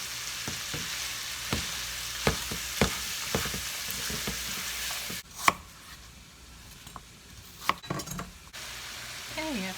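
Apples frying in a pan with a continuous sizzle, punctuated by sharp taps and scrapes of a utensil against the pan, and a quieter stretch near the end.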